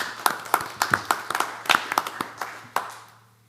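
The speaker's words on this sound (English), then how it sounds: "Another round of applause, please." An audience at a school board meeting gives a short round of scattered clapping from a modest crowd, in a room with some echo, fading out after a few seconds.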